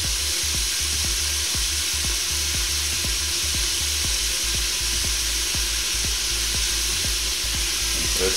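Onions sizzle loudly in a pot for pea stew, a dense continuous frying hiss broken by regular soft knocks, close and without talk.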